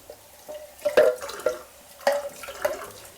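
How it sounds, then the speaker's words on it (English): Water poured into a pan of tomato-coated carrots and swilled around, giving a few close splashy drips and sloshes in quick bursts with quiet gaps between. "if you just put a little bit of water into them"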